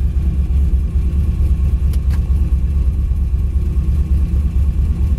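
A warmed-up 1969 Chevy Nova engine idles with a loud, steady, even rumble throughout, without revving.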